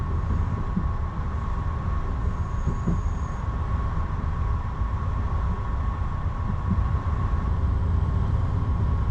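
Amtrak's Lake Shore Limited rolls through upstate New York, a steady low rumble of wheels on track with a constant hum and faint occasional clanks, unbroken and without voices.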